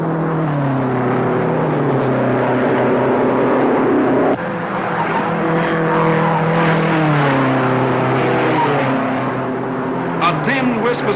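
Vintage race cars at the 1955 Indianapolis 500 howl past loudly, their engine tones rising and falling as the cars sweep by one after another, and someone talks over the sustained roar throughout.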